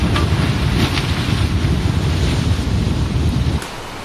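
Storm in a Norwegian town, with heavy wind and rain battering as a loud, constant broadband roar of gusts and water that drops off slightly near the end.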